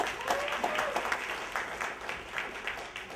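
An audience at a morning event claps in a brief round of applause, a moderate wash of hand claps heard from a slight distance and fading slightly at the end.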